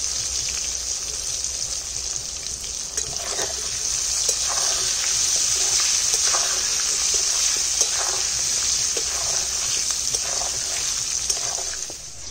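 Chicken feet, stomach and liver frying in a pan with turmeric and salt, giving a steady, close sizzle with scattered crackles and stirring scrapes throughout, no talking.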